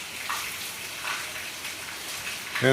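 Rainwater flows through farm fields at night after heavy rain, a steady rushing wash of water with splashy surges, continuous and fairly near, ending in a brief louder burst.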